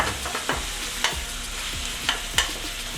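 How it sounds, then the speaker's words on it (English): Bourbon-infused ground beef sizzles in a pan while a utensil stirs and mashes it, with steady frying crackle broken by several distinct scraping knocks close up. "Just wanna mash out your beef a little bit."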